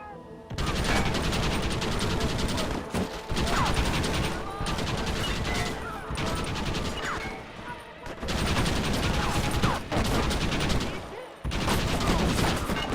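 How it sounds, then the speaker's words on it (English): Rapid sustained Gatling gun fire in the Western game Red Dead, dense continuous bursts broken by a few brief pauses, loud and close over chaotic battle noise. "They got a Gatling gun."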